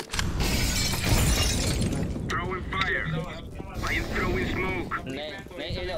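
A grenade bursts in Counter-Strike: Global Offensive with a loud shattering crack near the start, followed by gunfire and game effects under steady talk from players.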